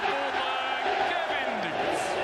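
Darts crowd at the PDC World Darts Championship cheering and roaring after a player hits double twenty, a dense, sustained wall of voices with whoops rising above it, loud and continuous throughout.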